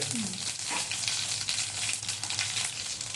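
Cumin seeds frying in hot oil for a potato palya, a steady bright sizzle holding at an even level throughout with no talking.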